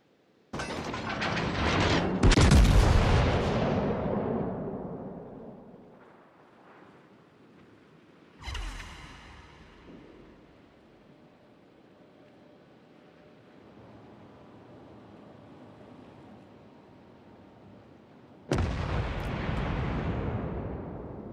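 Heavy artillery and gunfire in a war video game: a big blast around two seconds swells and rolls off slowly, a sharper report follows near eight seconds, a low rumble carries through the middle, and a final loud boom comes near the end.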